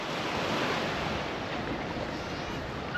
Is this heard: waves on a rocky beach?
yes